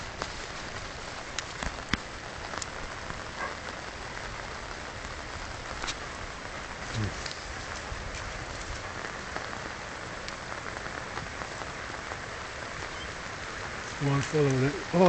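Rain falling in the woods of Killarney National Park in Ireland, a steady soft patter with scattered drips, close and continuous, with a brief burst of sound near the end.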